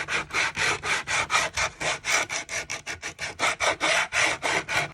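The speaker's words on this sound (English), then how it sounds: "ready for me to sand away any burrs" A wooden board roughened by sealer is hand-sanded to knock down burrs, giving close, loud back-and-forth scratching strokes in a quick, even rhythm.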